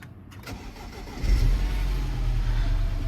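A car that has sat unused for two months cranks and catches, its engine starting with a rising low rumble and then settling into a steady, close idle with no talking.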